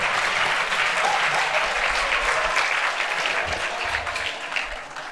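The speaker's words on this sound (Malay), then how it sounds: "tepuk tangan untuk nek tu ayah" A crowd at a religious talk applauds, a dense, steady wash of clapping from many hands for the whole stretch, moderately loud with no clear talk over it.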